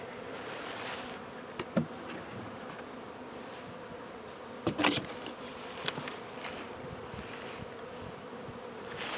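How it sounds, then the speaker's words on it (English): A steady hum of honey bees buzzing around an eight-frame hive, with occasional louder passes as individual bees fly close by. "But you can see where the bees are eating."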